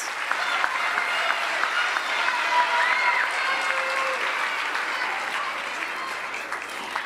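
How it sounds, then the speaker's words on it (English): An audience at a junior high school awards ceremony claps continuously, a dense patter of many hands at even loudness, with faint voices mixed underneath. "please give my PTech crew a big round of applause"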